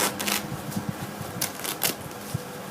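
Scissors snipping landscape fabric pulled taut beside garden rock, heard as a series of quick, close crisp cuts and rustles in a loose, uneven rhythm.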